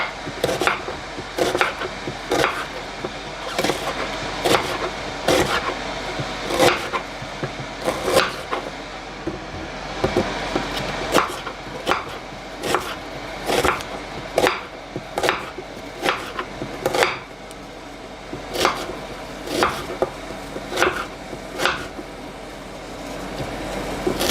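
A knife chops food on a cutting board for a family dinner, sharp evenly spaced strikes repeating close and loud for a long stretch, with a few quicker bursts and a low room hum underneath.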